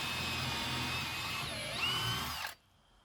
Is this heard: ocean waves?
no